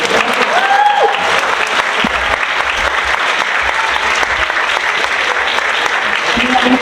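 An audience at a Mexican book launch claps steadily, a dense continuous round of applause with faint voices and a brief whistle-like tone early on.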